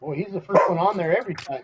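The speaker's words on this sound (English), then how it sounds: "That's my dog was barking." A dog barks a few times in the background while someone talks over it.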